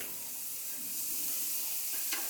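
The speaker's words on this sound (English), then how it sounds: "You hear that sizzle?" A steak searing on a hot grill gives a steady, moderately faint sizzle with a brief sharper crackle near the end, no voices.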